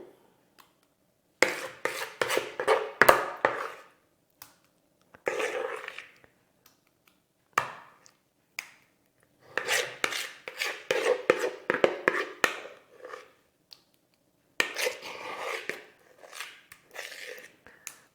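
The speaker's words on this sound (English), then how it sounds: "Scrape it all out of the bowl." A spoon scrapes thick cheesecake mixture out of a bowl into a tin, producing repeated close scraping and rasping strokes in short bursts with quiet gaps between them.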